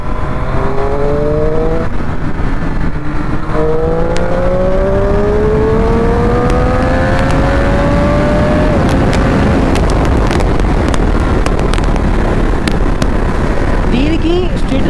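Triumph Street Triple 765R motorcycle engine revving hard while riding, loud and close, its pitch climbing steadily in long sweeps through the gears under constant wind rush, with a voice talking over it.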